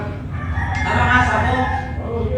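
A rooster crows once, close and clear, over a low background murmur.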